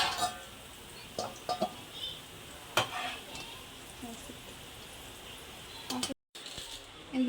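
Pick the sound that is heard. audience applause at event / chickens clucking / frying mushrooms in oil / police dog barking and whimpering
frying mushrooms in oil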